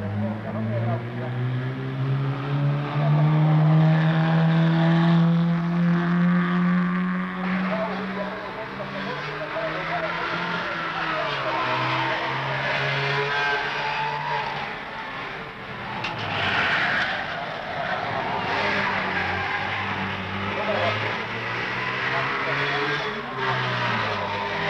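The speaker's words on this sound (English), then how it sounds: "And so the 1968 Rally of the Thousand Lakes begins with special stage number one." Rally cars racing on a special stage of the 1968 Rally of the Thousand Lakes in Finland, passing from tarmac onto dirt. Engines rise and fall as cars pass, with a voice talking over them.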